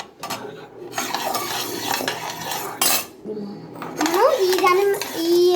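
Rice, almonds and dal frying in a pan while being stirred, with a metal spoon scraping and clinking against the pan in bursts; a voice and a voice are heard over the cooking noise.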